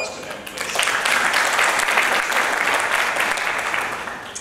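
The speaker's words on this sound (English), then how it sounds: "Let's have a round of applause for them," An international conference audience gives a full round of applause, a dense, steady wash of clapping that swells quickly and holds at an even level before easing slightly at the end.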